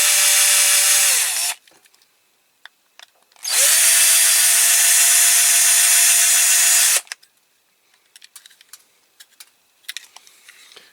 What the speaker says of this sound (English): let's get these rivets drilled out